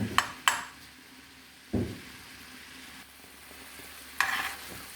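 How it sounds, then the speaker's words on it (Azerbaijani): Vegetable oil hits tomatoes cooking in a pan, bringing a steady low sizzle broken by a few sharp clinks of utensils and a brief scrape of stirring. "İndi yağ əlavə olunacaq üzərinə."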